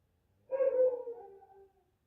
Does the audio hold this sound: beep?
no